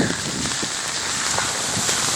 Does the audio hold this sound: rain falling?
yes